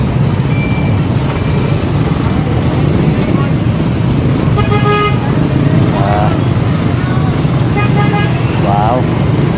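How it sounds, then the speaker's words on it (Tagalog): Busy street traffic in Masbate, with car horns tooting in short bursts and motorcycle engines droning steadily under a dense roadway roar, fairly loud and close, with voices mixed into the noise. "Traffic na."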